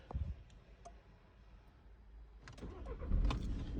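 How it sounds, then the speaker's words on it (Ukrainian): A 2010 1.6-litre diesel car engine cranks and catches, rising into a low rumble after a few light clicks; close and fairly loud, no talking. "Заводиться машинка з півоберту."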